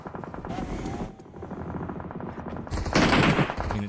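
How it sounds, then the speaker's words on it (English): Rapid bursts of automatic gunfire in the video game PUBG Mobile crackle loudly, with a brief pause before a heavier, denser volley near the end; no talking. "it does sound more like automatic gunfire than fireworks"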